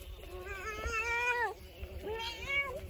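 A cat meows twice up close, two drawn-out rising-and-falling calls separated by a short pause, over a faint low background hum.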